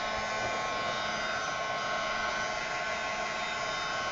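Steady, loud blowing roar of a heat tool drying a mixed media canvas, constant and unbroken throughout with no talking.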